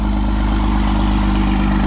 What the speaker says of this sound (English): Look at this tractor pulling extraordinaire here